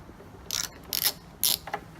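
Ratchet with a 10mm socket backing out a taillight bolt on a Nissan 350Z, three short close bursts of clicking separated by brief pauses, quiet and alone.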